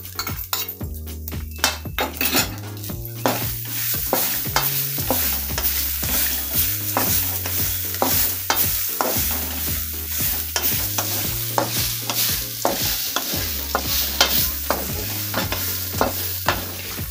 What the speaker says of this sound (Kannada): ಅದನ್ನು ಸ್ವಲ್ಪ ಹುರಿಯೋಣ.